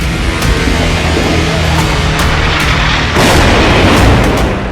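Dense artillery shelling in the Israel–Lebanon fighting, heard as loud, rough rumbling with repeated booming blasts layered over each other. A heavier burst of noise comes in near the end.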